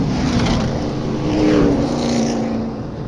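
Outlaw super late model race cars rumble past on a slow wave lap at Springport Motor Speedway, a loud, steady engine drone that swells and eases slightly as the field rolls by.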